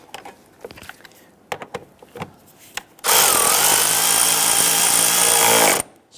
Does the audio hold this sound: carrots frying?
no